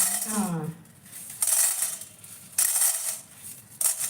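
Raw chana dal is dry-roasted in a pan without oil and stirred with a spoon, giving short bursts of gritty, rattling scraping. A voice speaks briefly at the start, with quieter pauses between the stirring bursts.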